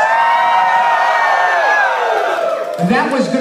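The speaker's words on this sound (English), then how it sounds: "I want you guys to scream at the top of your lungs." Wedding guests at a country club reception in North Kingstown, Rhode Island, scream and cheer together at full volume, a dense sustained crowd roar with whoops that continues throughout.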